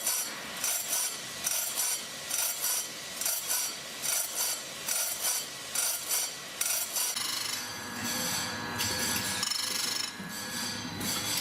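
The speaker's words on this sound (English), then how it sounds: "feeding the blade through a machine with rotating grinding wheels" A machine with rotating grinding wheels works the carbide-tipped teeth of a giant band saw blade, giving a steady rasping grind in repeated bursts, then a continuous harsher run near the end, with no voices.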